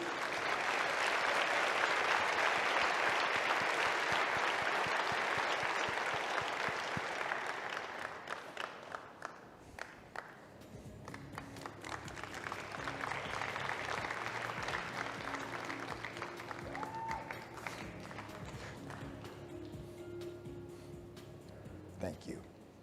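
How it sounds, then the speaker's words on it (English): A large audience at a medical society's opening session applauds steadily for about ten seconds, the clapping thinning and fading, then returning more softly while a voice speaks over it. "a round of applause for them, please"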